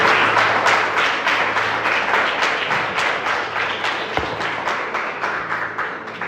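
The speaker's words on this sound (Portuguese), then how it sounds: "Se puder aplaudir o Senhor" A church congregation applauds during a worship service, dense sustained clapping that fills the space and slowly thins toward the end, with a single thump partway through.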